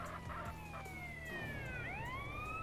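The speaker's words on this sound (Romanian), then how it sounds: "Ok, a ajuns ambulanța" An ambulance siren wails in a roleplay video game, its sweeping tones falling and rising again at moderate distance over steady background noise.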